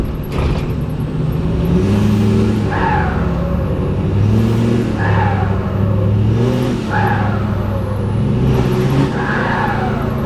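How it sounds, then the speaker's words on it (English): Turbocharged car driving on an open road, engine pulling through repeated throttle surges, each followed by a sharp hissing blow-off valve vent, loud and close over a constant cabin rumble. "Let's see if we can get some cool blow-off valve sounds."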